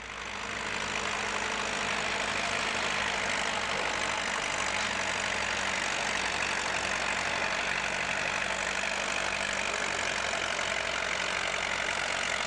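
An antique tractor engine runs steadily under heavy load pulling a weight box, a dense continuous rumble with a rapid knocking pulse, loud and unbroken throughout.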